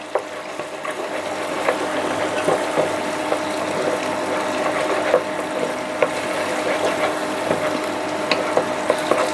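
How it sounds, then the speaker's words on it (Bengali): Two eggs fry in a pan of oil while noodles are being cooked: a steady close sizzle with frequent small scraping and clicking taps from stirring, no voices. "তো ডিমগুলো এখন ভালোভাবে ভেজে নেব।"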